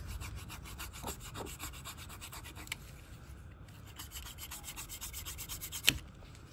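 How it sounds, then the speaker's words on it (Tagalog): A flat tire repair is finished by trimming off the excess patch material, giving repeated close rubbing and rasping strokes with one sharper scrape near the end. "So kailangan nating tabasin yung excess para maganda naman tingnan."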